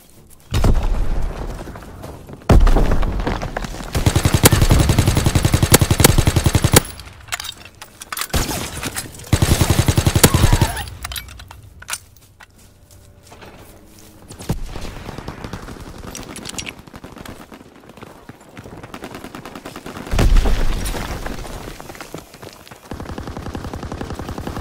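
Loud machine-gun bursts and single shots in the video game Call of Duty WW2, heavy sustained volleys broken by quieter pauses with scattered distant firing, thumps and booms.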